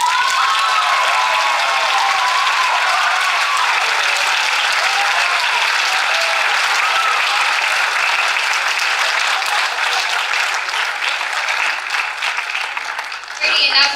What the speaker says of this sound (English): Can I get all the poets on stage for one more big round of applause, please?